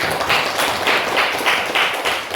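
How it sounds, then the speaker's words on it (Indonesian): Schoolchildren in a classroom clap together in loud, rhythmic bursts, a steady patterned beat of hands repeating several times. "Tepuk tangan buat kalian."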